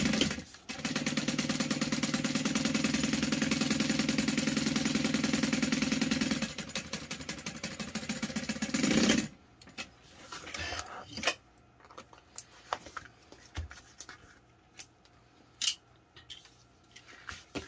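A sewing machine runs a half-inch seam allowance in one steady, loud burst of rapid stitching lasting several seconds, then stops, leaving quieter handling sounds and faint clicks.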